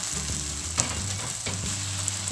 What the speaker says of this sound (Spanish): Vamos a vertir nuestro hígado, que ya está perfectamente lavado.